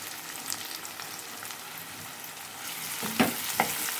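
Onions and green chilli pieces sizzling in hot oil, a steady crackling fry with a couple of sharper pops and scrapes near the end.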